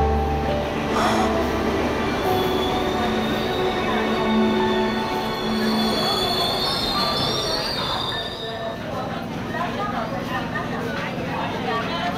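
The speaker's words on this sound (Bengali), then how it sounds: "ট্রেন এসে গেছে আমার।" A train rolls into a station, steel wheels squealing in long high whines over a loud rumbling rush, with voices and crowd murmur mixed in beneath.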